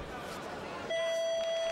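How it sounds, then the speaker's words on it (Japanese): An electronic buzzer sounds to end a judo match at the All Japan judo championships, a single steady tone sustained for nearly a second in an arena, with crowd noise and faint commentary underneath. "ブザーです。"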